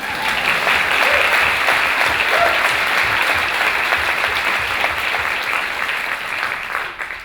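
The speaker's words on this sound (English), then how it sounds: "maybe we should applaud" An audience at a university arts graduation ceremony gives sustained, full applause that holds loud and even for several seconds before tapering off near the end.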